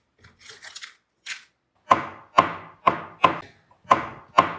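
Medicine tablets are crushed with a series of six sharp, close impacts at an even rhythm, preceded by softer scraping and rustling handling sounds.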